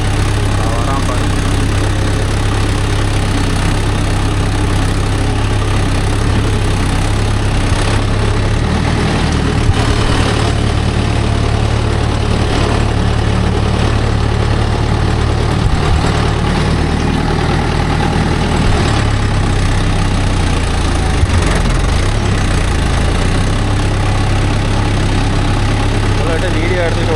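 Mahindra Yuvo Tech Plus 585 4WD tractor pulling a cultivator through a field, its engine running in a steady, loud low drone that never lets up, with faint background noise throughout.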